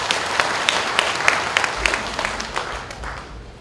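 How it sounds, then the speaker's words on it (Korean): Applause from an audience welcoming a speaker at a citizens' monitoring group launch ceremony in Busan, steady moderate clapping from a hall crowd that gradually thins out. "박수로 맞이해 주시기 바랍니다."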